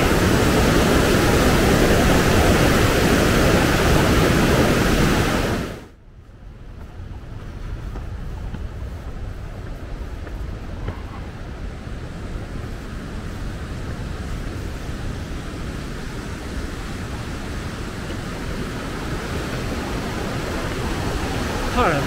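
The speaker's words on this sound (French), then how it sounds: "Et ça, c'est de la rivière." A river in Padjelanta rushes loudly past at close range. Partway through, the roar drops to a more distant, steady wash.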